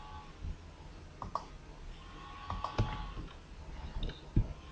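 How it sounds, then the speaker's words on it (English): Scattered keystroke clicks on a computer keyboard, irregular and faint, with a few sharper taps among soft background noise and no talking. "It takes time to type"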